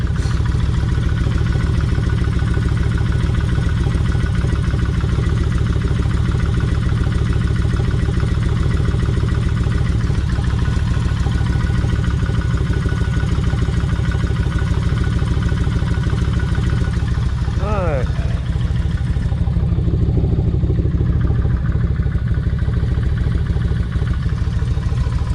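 A Kawasaki Vulcan 1600 motorcycle with something loose in its engine idles steadily and loudly up close, a dense, even throb with a faint rattle running unbroken throughout.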